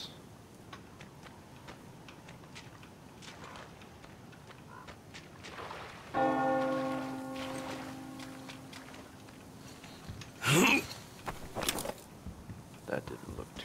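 A church bell in the video game Metro gives a single ringing toll midway that hangs and fades, surrounded by quiet ticking game ambience and a brief louder clatter afterward.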